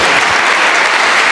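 Loud, close applause from a church congregation fills the short stretch, thick and continuous with no voices breaking through.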